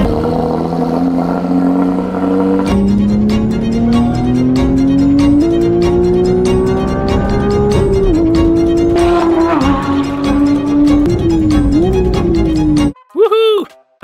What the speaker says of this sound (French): Il est maintenant temps de tester la GT3 que je viens de reconstruire.